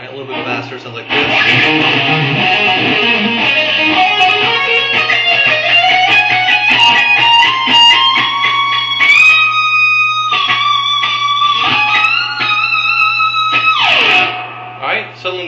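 A lead electric guitar plays a passage of a solo, a flurry of fast picked notes rising into long bent and held tones with vibrato, loud and alone over a faint low hum.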